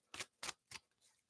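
A tarot card deck being shuffled: three quick, crisp riffling bursts in a row, then a fainter fourth, close but quiet.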